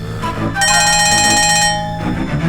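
A telephone rings loudly and close by, a bright electronic ring with a sustained burst in the middle, with a short lull and a further ring at the end; no talk over it.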